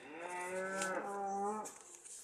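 A single cow gives one drawn-out, tonal moo lasting about a second and a half. It is fairly quiet and set against a hushed indoor background with no talking.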